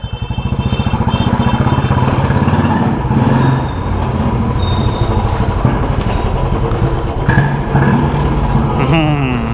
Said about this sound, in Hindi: बस अब बाइक अंदर खड़ी करेंगे